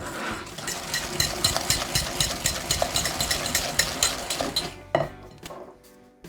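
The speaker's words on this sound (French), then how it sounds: "Je mélange." Softened butter, sugar and almond powder being mixed in a bowl, with a steady rhythmic scraping and thumping of the utensil against the bowl, then a few final knocks.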